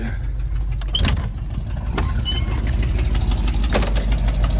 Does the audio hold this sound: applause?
no